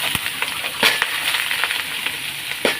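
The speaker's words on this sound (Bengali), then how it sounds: "এখন আমি এই যে লতি আর আলুগুলো দিয়ে দিলাম" Taro stolons and potatoes just added to a pan with fried onions, giving a steady close sizzle with crackling bursts and stirring scrapes, no talk.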